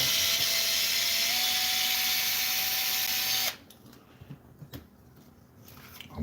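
A power drill whines steadily at close range for about three and a half seconds while screws are driven into a Kraton 6S RC car under repair, then cuts off to quiet handling noises and a few faint clicks.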